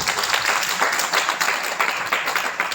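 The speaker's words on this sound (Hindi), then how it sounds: "ताली बजाइए इसके लिए" An audience at a Hindi spiritual discourse on the Srimad Bhagavatam claps together, a dense, steady wash of many hands that holds evenly for nearly three seconds with no voice over it.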